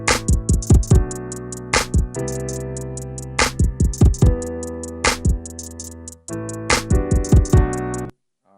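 A punchy electronic beat made in Reason 12, with kick, snare and crisp rapid hi-hats looping steadily, loud and close, stopping abruptly near the end.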